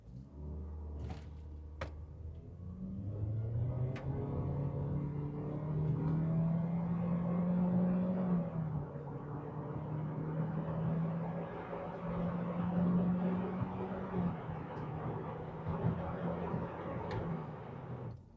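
An MG 5 GT sedan with a 1500 cc engine accelerates hard from a standstill toward 100 km/h, its engine note climbing steadily through the gears as a continuous cabin rumble with rising and falling pitch, loud and close throughout.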